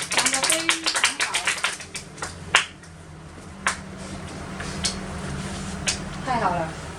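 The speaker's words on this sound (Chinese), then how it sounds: "来为自己掌声一下" Scattered sharp claps and snaps of someone applauding themselves, a quick burst of hand strikes early on, then a few isolated louder claps, with a faint steady hum beneath.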